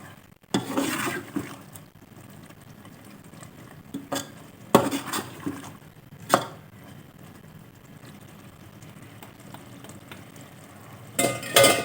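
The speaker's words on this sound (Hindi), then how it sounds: "बस अब हमने इसको करना है बड़े प्यार से मिक्स" A spoon stirs dhaba-style white chana curry, finished with green coriander, in a metal pot: intermittent clanks and scrapes in short bursts separated by quieter gaps, with a faint sizzle in the background.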